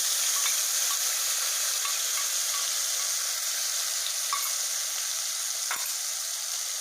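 Steady, loud sizzling of a ground spice paste frying in hot oil, with a few faint pops and one sharp tick, no voices.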